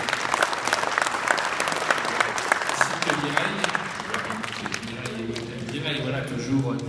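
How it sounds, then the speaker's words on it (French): Banquet guests applaud warmly, a dense burst of many hands clapping that gradually thins and fades, with voices murmuring underneath as it tails off. "Je crois que vous pouvez l'applaudir."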